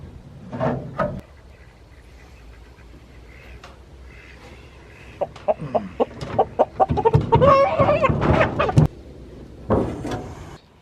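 Chickens cluck and a rooster calls in bursts, mostly around the middle and end, with quiet stretches between and no speech.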